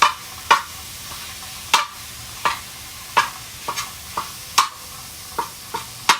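Hamburger meat fries in a pan over medium-high heat for a shepherd's pie. A steady low sizzle runs under sharp, close spatula scrapes that come roughly every half second.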